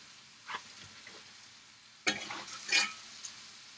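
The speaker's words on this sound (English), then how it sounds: "I hope the microphone's picking up that sizzling sound" Thin-sliced pancetta bacon sizzles in a frying pan, a soft steady crackle with a brief flare near the start and louder bursts of popping and spatter in the second half, with no talking.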